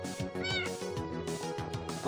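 A cat meows in a rapid string of short, wavering cries, fairly close and clear, with a brief louder yowl in the middle and no talking.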